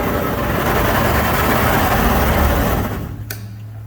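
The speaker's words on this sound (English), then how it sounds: "I got the old pan washer going." Maple sugarhouse pan washer running: a dense, churning mechanical rumble with steady low hum and broadband wash, loud and close, easing off and dropping toward quiet in the last second.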